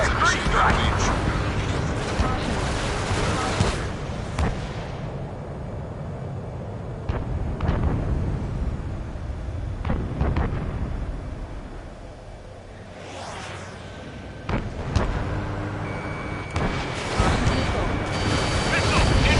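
Missile launches and explosions in the combat flight game Ace Combat 7, rumbling blasts and whooshes recurring throughout under a continuous roar, with someone talking over them.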